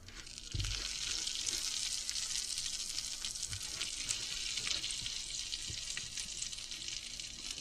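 A loud, continuous sizzle of garlic butter poured over hot breadsticks, with a crackling hiss that starts abruptly and holds steady throughout.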